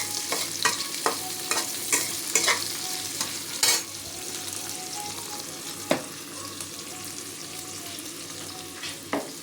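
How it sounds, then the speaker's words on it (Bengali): Onions fry on full flame in a pan, a continuous quiet sizzle broken by repeated scraping clicks of stirring, with no voices. "পেঁয়াজটা একটু ফুল ফ্লেমে লাল লাল হওয়া পর্যন্ত, একটু ব্রাউন কালার আসা পর্যন্ত একটু ভেজে নেবেন।"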